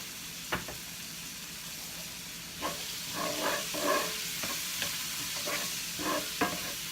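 Louisiana crawfish étouffée cooks in a pot with a steady sizzling hiss, broken by repeated scraping spoon strokes, close and clear, with no voices.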